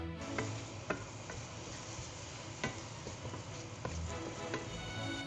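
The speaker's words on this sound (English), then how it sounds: "I will fry the speck until it's very nice and crispy and it releases a little bit of fat." Speck fries in a pan until crispy, giving a steady close sizzle with occasional light clicks of stirring and no talking.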